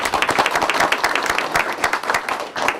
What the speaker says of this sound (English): let's give a round of applause to Brent for organizing this